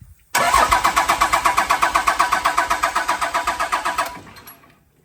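A Cummins diesel freshly swapped from a 5.9 to a 6.7 cranks loudly with a steady, rapid rhythmic churn for close to four seconds, then goes quiet without settling into an idle.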